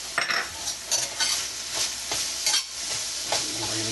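Onion, shallot, bay leaves, dried parsley and dried thyme are stirred in a hot pan, making a constant sizzle broken by repeated scraping bursts from the spoon.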